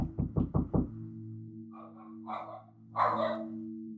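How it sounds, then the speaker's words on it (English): Five quick, sharp knocks rap on a front door close by, followed by a dog barking a few times indoors over a steady low hum. "Someone came to the door."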